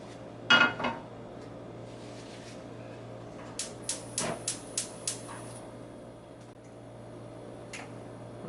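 Spoon taps and clinks against a skillet and bowl as cooked ground beef with peppers and onions is transferred, one louder clank followed by a quick run of five light ticks over a steady kitchen hum.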